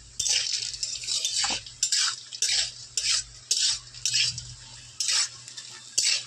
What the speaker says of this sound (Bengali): আস্তে আস্তে জাল দিয়ে বড়িগুলো লাল লাল করে ভেজে নিতে হবে।